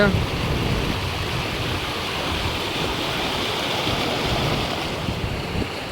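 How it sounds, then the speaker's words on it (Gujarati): Loud, steady roar of the flooded Ghelo river at Vallabhipur, Gujarat, rushing water filling the whole stretch, a dense broadband wash with no pauses, like a swollen river surging close by. "જોરદાર પાણી અત્યારે અમારી ઘેલો નદીમાં આવ્યું છે"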